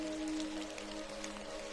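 Soft, steady rain patters outside a café, a faint continuous hiss with scattered drops, heard alone beneath a quiet hum of sustained tones.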